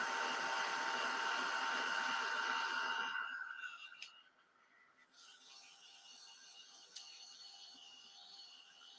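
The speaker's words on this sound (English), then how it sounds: "So I hope you can hear me over the dryer." A household clothes dryer runs with a loud steady whir that abruptly drops away after about three seconds, leaving a quieter hum with a couple of faint clicks.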